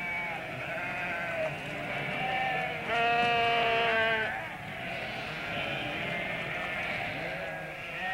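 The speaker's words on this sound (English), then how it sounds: "There was nothing we could do but just stand and watch the sheep joyfully drinking the water." Sheep bleat while drinking at a well in the Karakum Desert, with one loud, wavering bleat standing out from a background of overlapping calls from the flock.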